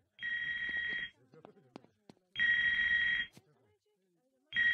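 A telephone rings in repeated bursts with short pauses between them, loud and near, with brief faint sounds in the gaps.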